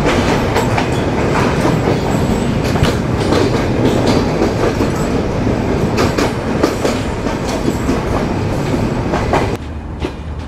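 The Shimanto Express passenger train runs on rails between Chilahati and Khulna, heard from inside as a loud, continuous rumble with rhythmic clickety-clack from the wheels that eases slightly in the last second.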